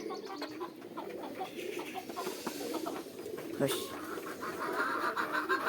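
A hen clucks among pigeons at a Bangladeshi pigeon farm, short clucks mixed with steady pigeon cooing nearby, with someone speaking over the birds.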